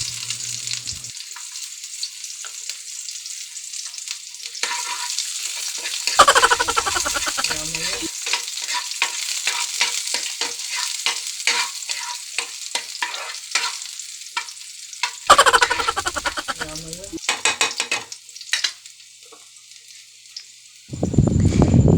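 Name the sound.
onions frying in a pan with liver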